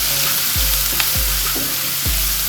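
Onion and turmeric powder sizzling in a hot pan while being stirred, a steady bright frying hiss broken by three regular scraping strokes of the spoon against the pan, close and loud with no talking.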